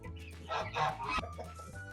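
A Liven hen clucks in a short burst of several close, throaty notes lasting a couple of seconds, with faint background noise and no talking.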